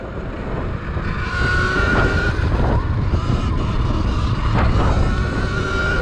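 Surron XX Ludicrous electric dirt bike at full throttle: a rising electric motor whine under heavy wind buffeting, with a couple of brief louder bursts as it speeds up, no speech.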